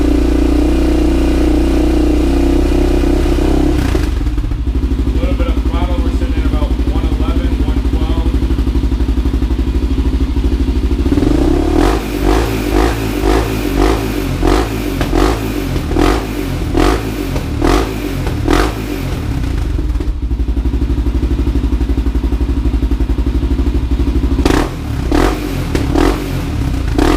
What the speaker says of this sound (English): A little bit of throttle, we're sitting